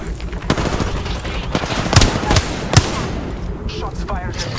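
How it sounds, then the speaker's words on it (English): Rapid bursts of gunfire from Apex Legends Arenas fill a busy in-game firefight, with sharper, louder shots standing out near the middle over a steady backdrop of weapon sounds and game effects. "Shots fired at me"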